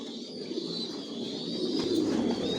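Silver racer pigeons in a loft, with a steady layered murmur of soft cooing and faint calls close by, continuous through the whole stretch with no talk.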